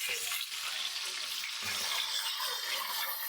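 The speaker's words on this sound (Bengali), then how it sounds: "এখন গোটা মুরগি তেলের মধ্যে দিয়ে দেব।" A whole chicken fries in hot mustard oil in a kadai, giving a steady, dense sizzle with soft crackle, close and continuous with no talk.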